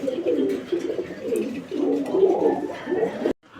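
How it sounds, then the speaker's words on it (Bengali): Pigeons of a colored desi breed coo in soft, repeated throaty phrases close by, continuous for a few seconds before stopping abruptly. "এই চমৎকার কবুতরের জোড়াটি"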